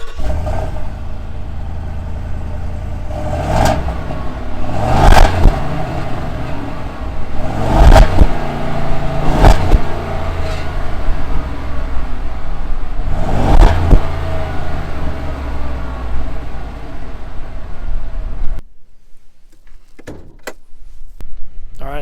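A 2024 Ford F250 Lariat's 7.3 liter V8 with a single side exit exhaust revs in several sharp bursts over a steady rumbling idle, then cuts off abruptly near the end, leaving near silence.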